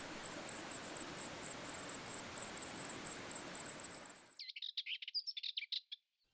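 Grey wagtail chicks calling at a streamside nest on a Portuguese mountain plateau: steady high thin chirping over a broad rushing-water hiss, then a burst of sharp, close, rapid calls alone after the noise cuts off.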